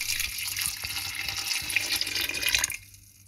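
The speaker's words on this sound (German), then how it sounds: "Die Birnen werden mit Wasser bedeckt." Water poured over pears in a cooking pot, a steady close splashing and gushing stream lasting a few seconds before stopping abruptly, with no talking.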